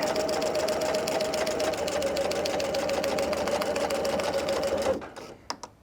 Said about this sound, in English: And back stitch, and go all the way.